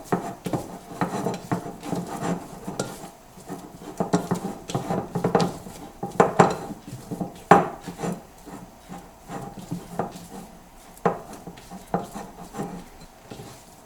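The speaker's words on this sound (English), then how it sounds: "And then we can stir it up some more." Spoon stirring a keto dough mixture in a bowl after microwaving, giving steady scraping and tapping against the bowl in a continuous close-up rhythm with no talking.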